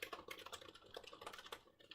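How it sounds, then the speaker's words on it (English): Fingers tap quickly on a mushy rubber dome laptop keyboard, a soft, uneven patter of muffled keystrokes, quiet and close with no talking. "rubber dome keyboard. It's so mushy. It's so mushy and so creaky."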